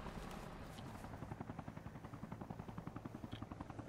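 A helicopter flies in the military game Arma Reforger, its rotor beating in a steady fast chop that comes on loud and close amid battlefield ambience.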